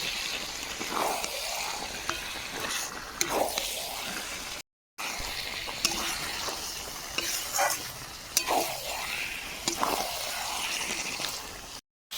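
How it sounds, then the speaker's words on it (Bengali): Chicken pieces tossed into oily, bubbling masala in a pan, a loud wet sizzle with repeated rhythmic stirring scrapes and squelches, briefly cut off once. "মশলা থেকে তেল ছাড়তে শুরু করেছে এবার আমি মাংস দিয়ে দেবো"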